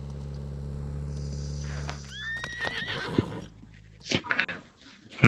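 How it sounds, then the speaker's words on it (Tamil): A horse in a video game lets out a sharp whinny after a low droning hum. Hoof clops and scattered clatter follow, and louder bursts come near the close. "ஏன் குதிரை கத்துது?"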